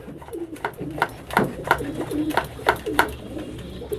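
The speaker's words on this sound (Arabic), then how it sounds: "الحمام السايب اللي طاير" Pigeons in a loft coo in a run of repeated throaty bursts, near and fairly loud, with a low steady background hum under them.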